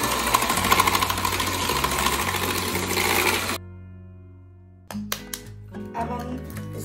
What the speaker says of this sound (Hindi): अब हम इनको बीटर से बीट कर लेंगे।